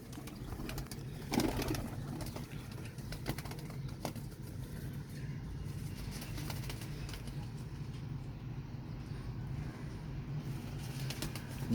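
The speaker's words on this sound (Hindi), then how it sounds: "सारे ये सियालकोटी कबूतर हैं" Sialkoti pigeons on a rooftop loft coo softly amid steady background hum, a brief flutter of wings rising near the start and low ambient noise throughout, no voices.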